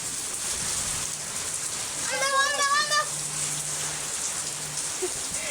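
Rain falling at night in a rural mango-gathering spot, a steady close hiss of drops that runs unbroken through the whole stretch, with a brief tonal voice-like sound rising over it midway.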